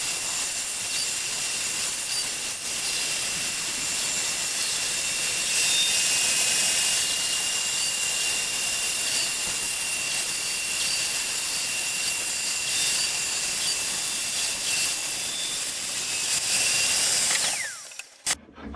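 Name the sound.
bandsaw cutting a laminated wooden boat stem form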